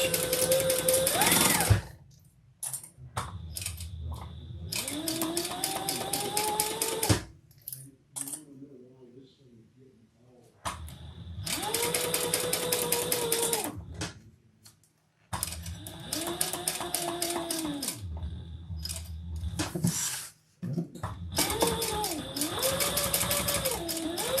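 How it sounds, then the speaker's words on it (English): A sewing machine bastes a seam an eighth of an inch from the edge, running in several loud, close bursts of rapid stitching separated by short pauses with quieter handling sounds. "And then baste the other side, 1/8 of an inch."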